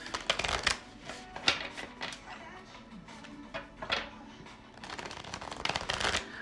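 Tarot cards being shuffled by hand in quick riffling bursts, a crisp papery flutter that starts and stops several times, close and fairly soft.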